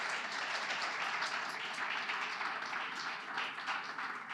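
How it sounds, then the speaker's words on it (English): At a Sunday church service, the congregation claps for panelists coming forward, a continuous, even wash of many hands heard from across a large room, moderately soft and without talk. "Clap for them all."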